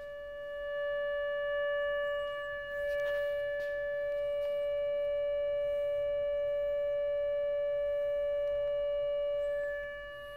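A steady continuous beacon tone from an Arduino-controlled hidden radio transmitter, picked up on a radio receiver, holds one pure pitch with faint harmonics for the whole stretch, loud and unbroken, with no voices.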